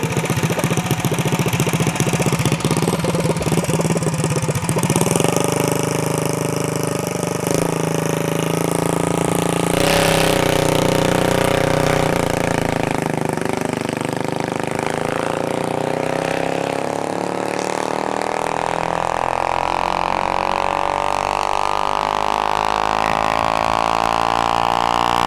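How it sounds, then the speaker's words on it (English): A mini bike engine at a drag strip runs steadily and loudly throughout, its pitch climbing in a long rising sweep in the second half as it revs up and moves off, with no talk over it. "Got the mini bike coming back."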